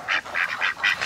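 Small ducks quack in a rural backyard, five loud, nasal calls in an uneven rhythm, close by with no talking.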